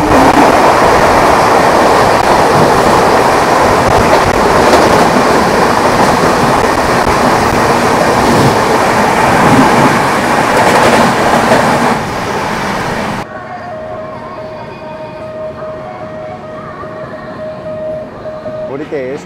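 Indian Railways 22503 Kanyakumari–Dibrugarh superfast express rumbles past at close range, a loud continuous roar of wheels and carriages that drops off abruptly near the end, leaving quieter station ambience with a faint tone.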